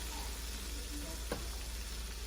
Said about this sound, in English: So we're just going to throw the peppers and the onions in here.